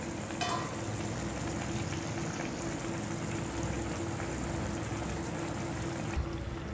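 Eggs cooking in a covered pan over high flame, giving a steady close sizzle and bubbling hiss that runs evenly throughout, with one brief clink near the end.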